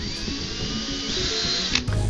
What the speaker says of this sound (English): I'm going to grab the other end with the pliers and I'm going to spin this for a few seconds.